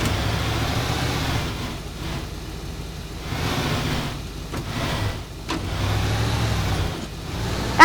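Steady engine drone and road rumble of a car being driven in the Skibidi Toilet Teardown video game, continuous with a few brief dips and shifts in tone.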